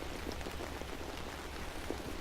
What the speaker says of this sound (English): Right now it's gloomy, it's dark, it's foggy, and it's raining.